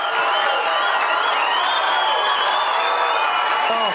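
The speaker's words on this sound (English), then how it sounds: "Just listen to this crowd." A large crowd cheers, whoops and applauds after a walk-off win in a boys high school lacrosse state championship, a loud sustained roar of voices and clapping throughout.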